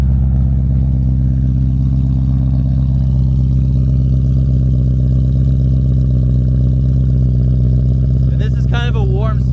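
A supercharged BMW E92 M3 V8 with an Eisman Race exhaust idles loudly and up close, a deep steady rumble with a faint supercharger whine, holding even throughout before brief squeaky sounds near the end.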